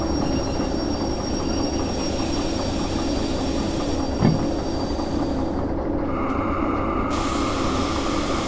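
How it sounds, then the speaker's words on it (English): Train in the Derail Valley game braking toward a stop, a steady loud rumble of wheels on rails with a brief clunk midway and a higher metallic tone emerging near the end. "Now let's stop this train."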